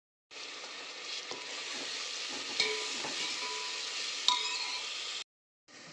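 Cumin, mustard seeds, curry leaves and ground paste hit hot oil over a wood-fired chulha, giving a steady close sizzle with a couple of sharp metal clinks before it cuts off abruptly.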